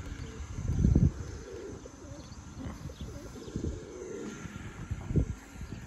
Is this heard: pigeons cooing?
yes